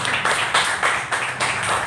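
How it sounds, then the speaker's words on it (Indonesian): Students in a classroom clap for a student group in steady, rhythmic bursts that repeat throughout, loud and close with no talking over them. "Kita beri tepuk tangan dulu buat kelompok 1."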